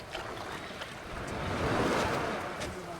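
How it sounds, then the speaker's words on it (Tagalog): Strong ocean surf rolls and crashes continuously, swelling louder midway, with some wind rushing over the microphone and no voices. "Uy, lakas ng alon."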